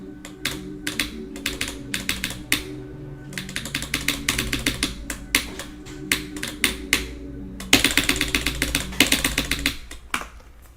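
Rapid, crisp keystrokes on a Corsair K70 TKL keyboard clatter close up in uneven bursts with brief pauses, ending in a louder flurry of clicks.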